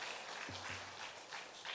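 Faint, distant clapping from a church congregation applauding the choir, with a brief low sustained tone sounding near the start of the patter.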